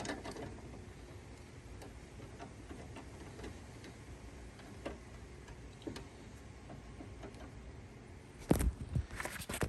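Ratchet wrench cranking on the control arm pinch bolt of an Audi B8 (A4, A5, S4, S5 or Q5), giving faint, steady ticking clicks under low background noise, followed by a louder metallic clatter near the end.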